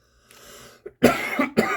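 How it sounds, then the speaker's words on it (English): A few harsh coughs in quick succession, close and loud, preceded by a faint breath and throat sound. "I just had a coughing attack."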